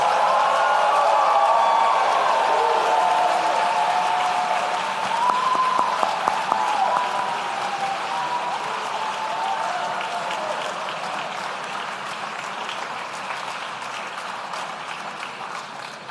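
Sustained applause from a graduation ceremony audience honoring Masters in Public Administration graduates, a dense steady clatter of many hands that slowly thins and softens toward the end.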